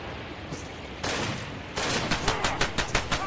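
Shotgun blasts ring out in Far Cry 2: a burst of fire starts, then a rapid series of roughly eight sharp reports follows in a quick rhythm, fairly loud and with no speech over them.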